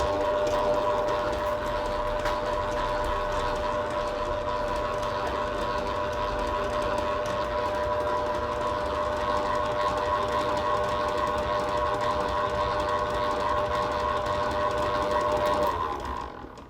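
Stand mixer running steadily at speed 2 while beating eggs into a batter, a continuous even motor whir with a faint rhythmic beater clatter, close and uninterrupted, cutting off at the end.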